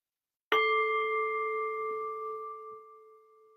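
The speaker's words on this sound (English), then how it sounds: "And we'll start with the bell." A meditation bell is struck once after a moment of silence. It gives a clear, pure ring that slowly fades over a few seconds with nothing else heard.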